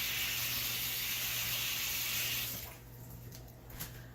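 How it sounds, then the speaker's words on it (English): Kitchen sink tap running for hand washing after handling cherry juice, a steady close hiss of flowing water that cuts off partway, leaving faint splashes and small handling sounds. "Now I gotta wash my hands because I got cherry juice all over it."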